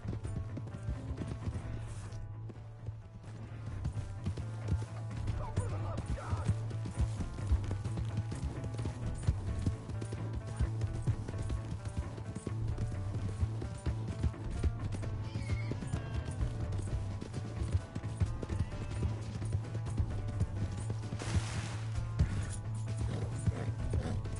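Hooves clip-clop steadily as a horse runs in Red Dead Redemption 2, with occasional neighs and whinnies over a constant low game-music and ambience bed, loud and close throughout.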